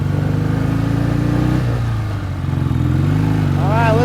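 A 1967 BSA Spitfire Mk III twin motorcycle engine drones loud and close while riding on a windy day, its steady throb dipping briefly before the pitch climbs again.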